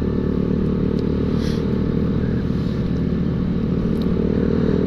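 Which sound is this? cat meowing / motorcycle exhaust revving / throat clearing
motorcycle exhaust revving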